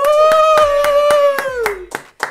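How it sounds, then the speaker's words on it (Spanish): Studio audience on a Sunday variety talk show claps in a quick, even rhythm over a sustained musical tone, fading out after about two seconds. "Un aplauso."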